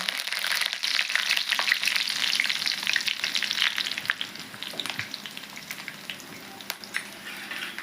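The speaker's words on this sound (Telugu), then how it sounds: "ఒక్క రెమ్మ అండి కరివేపాకు వేస్తాను." Curry leaves and crushed garlic sizzle in hot oil with spices for a tempering for a tomato-yogurt chutney, a steady dense crackling with sharp spits throughout, close and loud, no talking.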